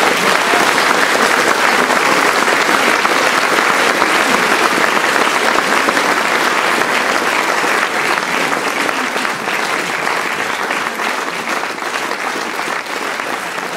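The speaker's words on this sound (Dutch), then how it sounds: "Maar een groot applaus voor de bouw van de zaal." An audience in a hall gives a long burst of applause, dense and loud clapping that fills the space and holds steady before easing slightly toward the end.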